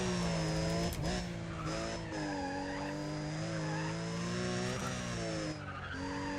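Turbocharged BMW M3 in the racing game NFS ProStreet revs hard at high RPM with a steady engine whine and screeching tires, loud and continuous throughout with brief gear-change dips.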